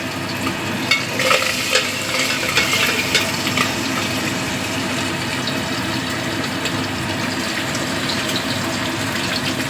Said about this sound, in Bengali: মাছগুলো খুব ফাটছে তো, তার জন্য ঢেকে রান্না করছি